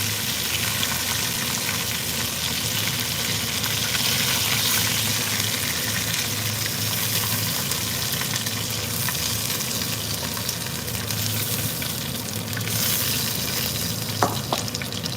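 Curry ground turkey meatballs frying in a pan, a steady dense sizzle and crackle of hot oil continuing for about fifteen seconds, with occasional stirring scrapes and a brief clink near the end, no talk.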